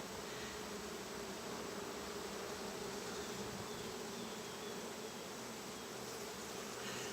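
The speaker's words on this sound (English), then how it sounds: "I expected there to be a lot more bees in here" Honey bees buzzing inside an opened hive during a routine inspection, a faint, steady drone that holds evenly throughout with no pauses.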